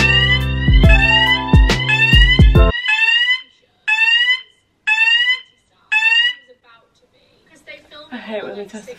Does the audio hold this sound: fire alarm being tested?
yes